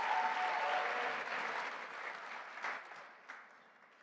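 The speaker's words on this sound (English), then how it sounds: "let's give them all a round of applause" A luncheon crowd at a national leadership plenary applauds with moderate, fairly distant clapping that gradually tapers off, a couple of louder claps near the end.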